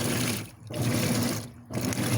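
Maytag Centennial top-loading washer agitating with a little water, a churning mechanical swish that pulses in back-and-forth strokes about once a second, with a low motor hum beneath.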